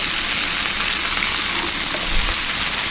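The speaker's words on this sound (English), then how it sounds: "I'm just gonna sprinkle it along the outside of that pan to again saute and bring some color to it" Asparagus sautéing in bacon fat in a hot pan, alongside halibut, gives a loud, close, continuous hissing sizzle throughout.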